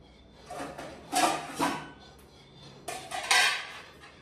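A spoon stirring in a pot while making popcorn, scraping and clattering against the metal in two uneven bursts, close and moderately loud.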